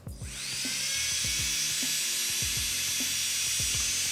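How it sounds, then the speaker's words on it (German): A ProMate electric nail drill runs at full speed, a steady high-pitched whine that holds loud and constant throughout, with faint intermittent clicks and low thumps beneath it. "Machen wir mal den ProMate an auf Vollkanne."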